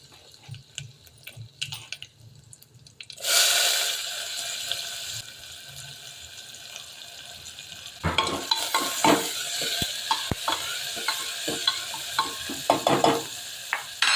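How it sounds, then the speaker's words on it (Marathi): Onion frying in a pan for spicy misal, quiet at first, then a loud hiss of sizzling, and later busy stirring and scraping with frequent clinks against the pan. "कांदा चांगला ब्राऊन कलर होऊन ते हळद टाकते कांदा झालेला आहे फ्राय"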